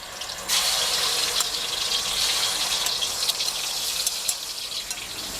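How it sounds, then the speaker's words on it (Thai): Pork belly frying in hot oil in a pan gives a steady, fairly loud sizzling hiss that starts after a brief quiet moment and continues without any talking. "ตั้งกระทะให้ร้อนดีแล้วก็นำหมูลงไปทอดเลยนะครับ"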